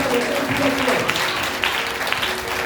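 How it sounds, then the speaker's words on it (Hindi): Congregation applauding during a Sunday church service, a dense wash of clapping filling the room with a preacher's voice and other talk running over it. "अरे ताली तो बजाओ"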